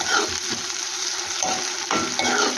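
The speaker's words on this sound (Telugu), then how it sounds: "వేగుతున్నాయి" Tomato and amaranth leaves fry in a pan with a steady, close sizzle, broken by a few soft stirring scrapes; no voices.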